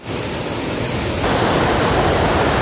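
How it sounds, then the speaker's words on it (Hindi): Saidhara waterfall at Jharigaon in Odisha roars as a dense, steady rush of falling water, loud and continuous, growing fuller partway through. "ये है साईधारा वाटरफॉल"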